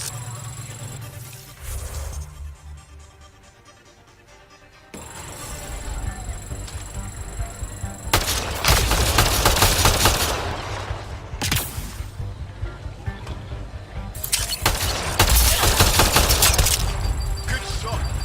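Bursts of rapid automatic gunfire and heavy shots from the video game Mass Effect: Andromeda, loud and close, arriving in several dense volleys separated by quieter stretches.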